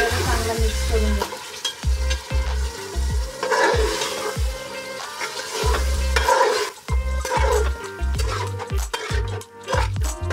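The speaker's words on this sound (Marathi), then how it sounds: "चांगला मिक्स करून घेऊ।" Chicken mixed with yogurt is stirred in a sizzling pan for chicken pulao, the spoon scraping in steady, loud rhythmic strokes over a continuous frying hiss.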